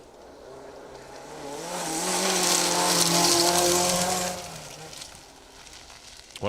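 A rally car, car 204, comes from the distance on a 2WD gravel stage of the Woodpecker Stages Rally. The engine drone swells gradually to a peak, then fades again, staying fairly distant throughout with no talk.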